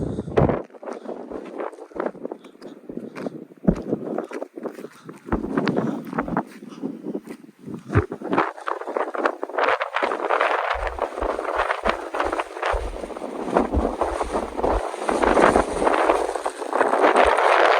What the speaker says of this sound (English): I can literally hear the wind whistling.